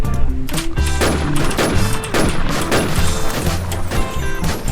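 Rapid gunfire bursts crackle in the online shooter game WarZ, loud and dense, with overlapping shots and echoing impacts over game sound throughout.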